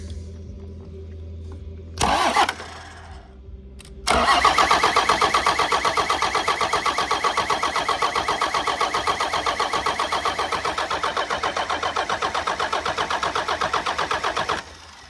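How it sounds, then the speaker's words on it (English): An old Dodge engine is cranked over by the starter in a long, fast rhythmic whirring run after a brief burst, loud and close, without catching. "So we'll crank her over a bit more."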